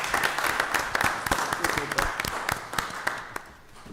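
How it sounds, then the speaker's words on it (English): A small audience at a city committee meeting claps in a brief round of applause, scattered and fairly quiet, with voices murmuring underneath. "A round of applause. Round of applause."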